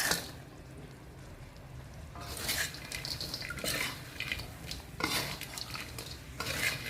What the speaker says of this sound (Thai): ก็ใส่เป็นหอยลายของเราลงไปคลุกเลยค่ะ